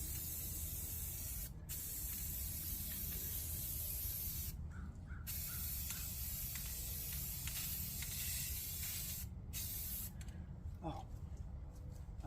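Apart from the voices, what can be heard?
spray painting exterior trim, overspray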